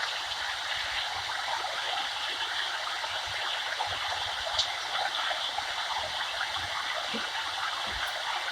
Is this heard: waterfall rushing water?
yes